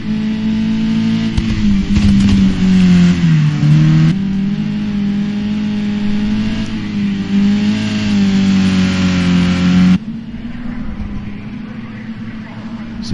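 Touring cars race at Brno in the Czech Republic in the video game Project Cars, with a loud, continuous engine drone that rises and falls in pitch as gears change, and faint talk underneath.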